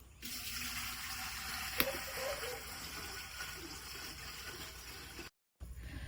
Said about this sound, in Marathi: पातेलेत मी ही रिंग टाकतलय आणि चुलीवर ठेवतोय तर खरवस उकडूचो हा ना तर त्याच्यात मी पाणी घालून घेतोय